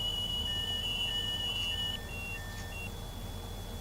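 Cab alarm in a Class 395 train in Train Simulator, sounding as a string of five or six short, evenly spaced electronic beeps over a steady high whine and low cab rumble, close and clear.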